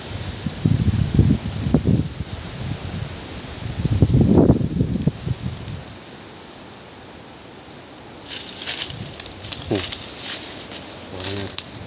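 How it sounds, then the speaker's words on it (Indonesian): Strong stormy-season wind sweeps through a hillside coffee plantation, roaring and rustling foliage in heavy gusts before easing into a calmer lull, with birds calling in the background later. "angin kencang nggak berhenti berhenti."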